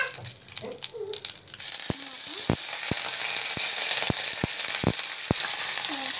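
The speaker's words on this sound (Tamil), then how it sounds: "கடலைப்பருப்பு வந்து போடணும், சீரகம் வந்து ஆட் பண்ணலாம், நல்லா வந்து வதக்கலாம்." Chana dal, cumin seeds and plenty of curry leaves sautéing in hot oil for temple-style puliyogare prasadam: a sudden loud sizzle erupts as they hit the pan, then a steady close frying hiss with regular scraping stirs.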